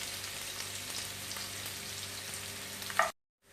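Dried red chillies sizzle in hot oil for a yam curry, a steady close crackling hiss with a small clink before the sound cuts off abruptly near the end.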